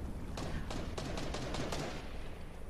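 Bursts of rapid gunfire from a video game shooter, a run of several sharp cracks spread across the clip at moderate, somewhat distant loudness over a steady background, with no talking.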